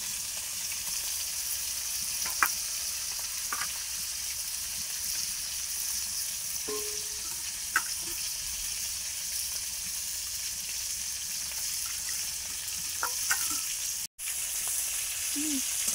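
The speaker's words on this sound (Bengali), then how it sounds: "ঝোল হলে মাছটা আর একটু কড়া করে ভাজতে হয়, বেশি কড়া করবো না" Fish fries in oil in a pan for a Bengali fish dish, a constant close hiss and crackle with a few scattered clinks and spatters and one sharp knock near the end.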